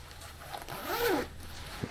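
A zipper on a Snugpak Jungle sleeping bag is drawn in one quick, faint zip, close and alone against a quiet background.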